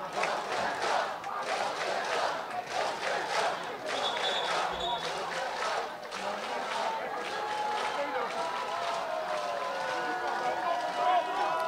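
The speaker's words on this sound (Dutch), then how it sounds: "Ja, het publiek gaat recht achter staan nu." A basketball arena crowd at a Dutch league game roars and cheers steadily behind the home team, a loud continuous wash of voices with shoe squeaks and a ball bouncing on the court, and a commentator talking over it.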